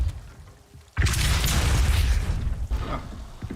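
The Depulso force spell cast in the Hogwarts Legacy game: after a quieter lead-in, a sudden loud, booming whoosh-burst that sustains as a broad roaring rush for a few seconds before fading slightly. No talking.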